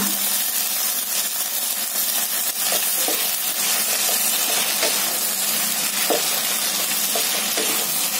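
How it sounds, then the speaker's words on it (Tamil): Brinjal sautés in oil in a pan seasoned with mustard seeds and curry leaves, giving a steady, close sizzle with occasional soft stirring clicks throughout, with no talking. "இப்ப நம்ம எண்ணெயில இத வந்து நம்ம வதக்கிக்கணும்."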